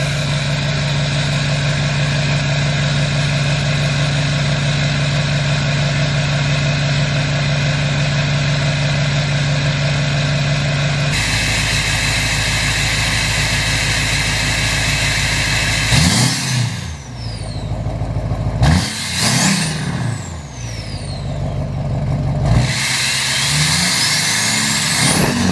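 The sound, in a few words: Duramax diesel truck engine cold start and idling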